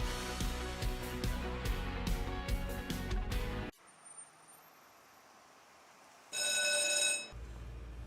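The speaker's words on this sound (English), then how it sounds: "We provide the ring you love to hear." A telephone rings in a business phone line advert, a short bright burst of bell tones following a passage of music and a quiet stretch, then a low rumble resumes.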